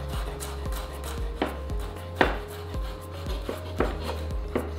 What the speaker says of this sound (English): Garlic is really good for infections because it's like a natural antibiotic. So we're just going to chop these.